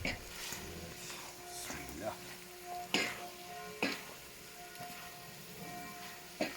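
Meat with onions and peppers sizzles and gets stirred on a sac pan over a wood fire, a steady frying hiss broken by periodic scraping clinks of the stirring utensil, with talk nearby.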